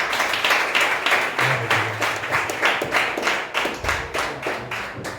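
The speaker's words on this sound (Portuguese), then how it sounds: "Aplauda Jesus mais uma vez." A church congregation applauds together, a steady dense patter of many hands clapping in a reverberant hall, with no voices over it.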